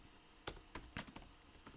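Keys on a computer keyboard clack in a short, irregular burst of about half a dozen taps as a search is typed, quiet and close with no voices.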